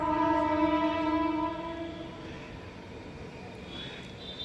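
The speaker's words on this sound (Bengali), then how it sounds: "কেমন হর্ন দিচ্ছে বাবা" A railway engine sounds a long, loud, steady horn for about two seconds, then it cuts off and leaves a softer outdoor rumble.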